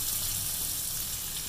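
Cumin, mustard seeds and chopped onions fry in oil inside a clay pot, giving a steady, close, even sizzle with no pauses and no voices.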